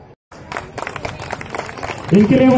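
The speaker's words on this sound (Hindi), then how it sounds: "इनके लिए वह जोर ताली है।" Clapping and crowd noise from a seated audience at a birthday stage event held for a BJP MP in Dhanbad, Jharkhand. The clapping grows from scattered to steady under a loud amplified announcer's voice.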